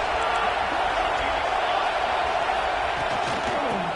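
A stadium crowd in College Football 26, South Carolina at number one Alabama, gives off a steady, loud, broadband roar that holds without a break throughout.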